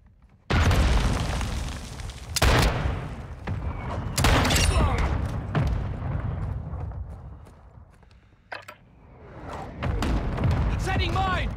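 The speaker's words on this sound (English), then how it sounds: "Friendly mortar strike on the way." Mortar strike explosions in the video game Call of Duty: Modern Warfare 2, with heavy, loud booms landing one after another and rumbling tails, mixed with sharp bursts and battle noise; a voice speaks briefly in the mix.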